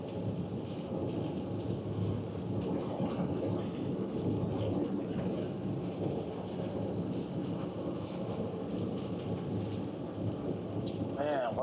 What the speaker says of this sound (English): Gotta get rid of this wet stuff. This rain-snow mix.